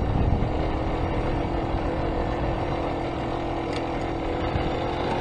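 A small motorcycle, apparently on its first ride, idles in neutral with a fast, steady engine drone that stays fairly loud and close throughout, without talk over it.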